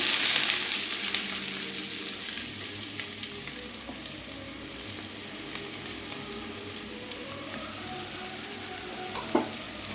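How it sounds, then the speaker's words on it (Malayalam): Loud, steady sizzling of garlic, chilies and curry leaves frying in hot oil after mustard seeds have popped, with scattered crackles and pops and an occasional stir throughout. "കടുക് പൊട്ടി കഴിഞ്ഞു എല്ലാം കൂടി ഇട്ട് കൊടുക്കാം"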